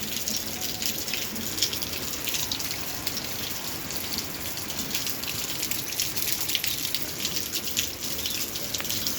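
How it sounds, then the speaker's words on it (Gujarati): Rainwater runs off the roof eaves in a Gujarati village during monsoon rain, a constant splashing gush mixed with the hiss of falling drops, steady and nearby, with no talking. "અહીંયા નેવાનું પાણી આવે છે ભાઈ"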